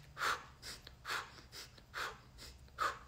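Breathwork exhales alternate between nose and mouth: five or six close breathy bursts, each a sharp rushing puff with a short pause between, rhythmic and fairly soft.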